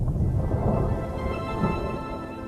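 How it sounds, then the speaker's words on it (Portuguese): Steady rain falls in the Australian desert with low rumbling thunder rolling beneath it, a dense continuous wash of sound with no voices. "Chuva."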